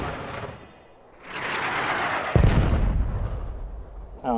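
Artillery rounds impacting on target during a fire-support mission: a sharp blast strikes midway, followed by a heavy rumbling roll of explosions that lingers and fades, with another burst of sound at the very end.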